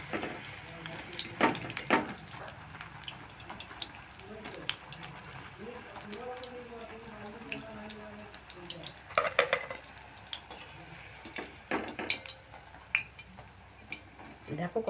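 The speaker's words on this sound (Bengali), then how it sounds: "এইভাবে আমি বাকিগুলোও ভেজে নিচ্ছি" Maggi noodle pakoras fry in hot oil, a steady soft sizzle with scattered ticks and scrapes of a utensil stirring and lifting them, fairly quiet and close.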